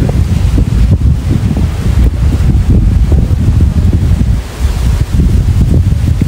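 Heavy wind during rain at an outdoor fishpond, loud continuous gusts battering the microphone with a dense rushing roar, briefly easing before surging again.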